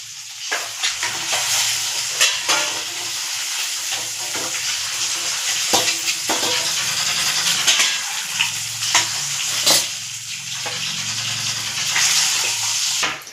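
Eggs frying in hot oil in a pan for an egg curry with curry leaves, a steady bright sizzle throughout with repeated scraping and stirring clicks as they are turned and lifted out, no talking.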